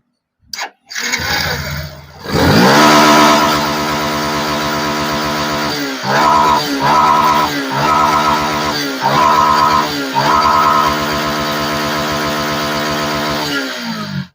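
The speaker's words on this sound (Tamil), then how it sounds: "ரேஸ் பண்ணாலும் வண்டி வந்து ஆஃப் ஆகலை." A Yamaha FZ V3 motorcycle engine starts, settles into a steady close-up idle and is revved in several quick bursts, then drops back to idle. No one talks over it.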